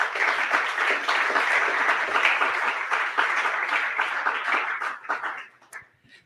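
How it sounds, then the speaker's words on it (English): An audience at an annual meeting gives a round of applause, a steady wash of many hands clapping for several seconds before thinning out and fading away, with a little talk present. "I really want to just give a big round of applause and a big thank you for that"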